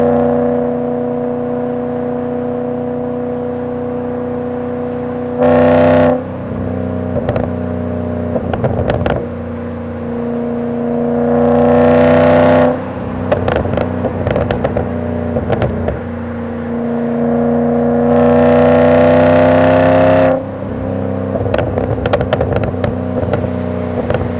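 Volvo S80 V8 with a custom exhaust driving past several times, each pass a loud rising roar of engine and exhaust over a steady background hum, with bursts of revving between passes.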